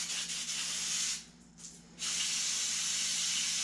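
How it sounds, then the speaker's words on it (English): Loud, continuous carburetor cleaner aerosol spray hissing up close into a push mower carburetor, with a brief pause in the middle before the spraying resumes just as strongly. "Good carb cleaner, spray the piss out of it."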